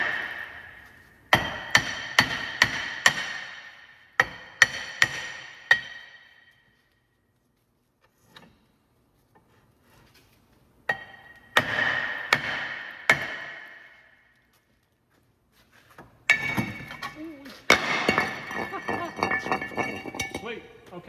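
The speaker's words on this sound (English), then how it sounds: "All right, we're just gonna give this a couple whacks." Sharp metallic hammer blows knocking a rear brake rotor loose on a 2010-2016 Cadillac SRX, two clusters of quick ringing strikes, then a pause and two more bursts of clanking hits, close and loud.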